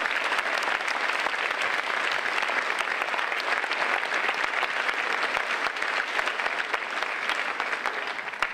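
A school audience at a mock election debate breaks into sustained applause, a loud, even patter of many hands clapping continuously with no speech over it.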